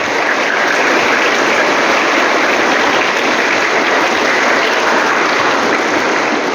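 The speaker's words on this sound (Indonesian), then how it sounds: "Tepuk tangan untuk yang SD." Primary school pupils receive a big round of applause at an assembly, thick continuous clapping from a large audience that stays even and loud throughout.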